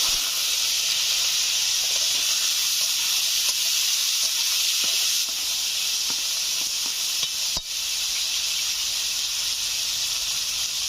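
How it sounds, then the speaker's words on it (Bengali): Potatoes fry in hot mustard oil, giving a loud, steady, close sizzling hiss that runs unbroken throughout, with faint crackles underneath. "তেল গরম হয়ে গেছে, আলুগুলো ভেজে নিচ্ছি।"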